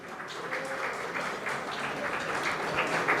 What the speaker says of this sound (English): You can hear the applause on the other board